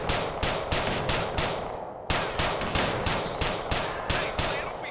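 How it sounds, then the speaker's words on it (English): Rapid gunfire in GTA IV, loud bursts of automatic shots in a steady rhythm that break off briefly and then resume, with no voices over them. "Okay, guess we're shooting each other."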